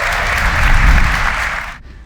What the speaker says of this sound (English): Can I please get a big round of applause for Niall and Alison?